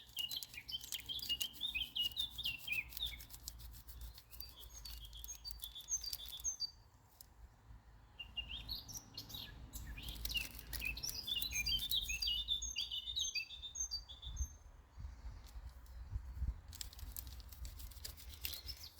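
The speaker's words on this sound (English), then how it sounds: "the birds are just beautiful background" Morning birdsong in the background, many small birds chirping and trilling at a moderate distance, continuous for nearly twenty seconds with a brief lull midway, over a low steady outdoor rumble and no talk.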